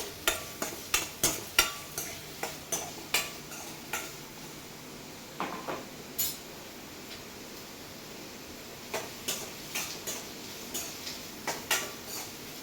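Spatula stirring paneer in oil in a pan for paneer pepper dry, a run of regular scraping taps and light clinks over a faint sizzle, pausing midway then resuming, close and moderately loud with no talk.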